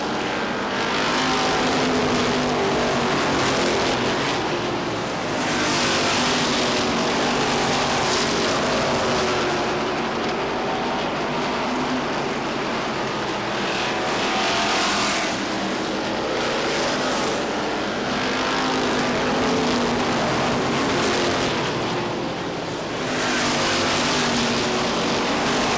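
Stock cars race around Lee Speedway, a loud, constant engine roar that swells and fades in waves as the pack passes, with no talk.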